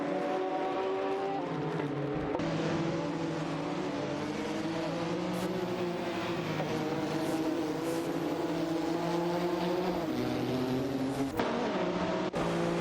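Race car engines in an AI-driven racing video game drone and whine continuously, several cars layered with rising and falling revs and occasional passes, loud and steady with no talk.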